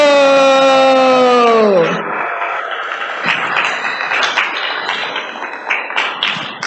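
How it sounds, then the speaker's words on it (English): Applause from an audience at a devotional program honoring a speaker, a sustained dense patter of clapping that rises after a long held tone fades, continuing steadily with scattered louder claps. "please, a big applause for him"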